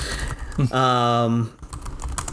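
Keys clatter on a computer keyboard in a run of light clicks, broken midway by a sustained tonal, voice-like sound before the tapping resumes.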